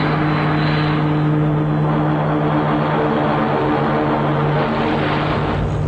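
Propeller aircraft engines in a film scene: a loud, steady droning hum with a strong pulsing engine tone runs unbroken throughout, with no speech over it.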